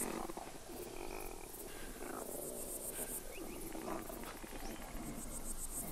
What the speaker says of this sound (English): Sounds like a cat or something. Like some kind of big cat.